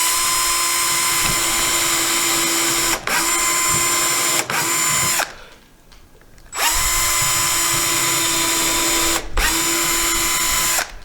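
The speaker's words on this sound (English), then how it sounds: "We'll get the drill. Go ahead and drill the screws for the hole" A power drill runs hard in long, loud sustained bursts while boring screw holes into scrap material for a homemade tool, with brief stops and one longer pause between runs.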